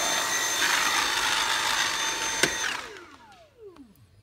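Dyson V7 Animal+ handheld vacuum cleaner running with a loud, steady high whir, then switched off, its motor pitch sliding down as it spins to a stop.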